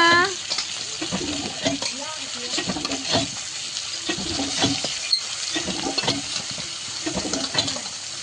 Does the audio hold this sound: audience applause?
no